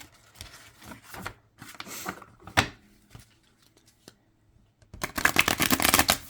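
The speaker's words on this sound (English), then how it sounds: "Let's try to give it a little shuffle." An oracle card deck being shuffled by hand, with soft riffling and sliding bursts that start and stop, ending in a louder run of rapid card flutter near the end.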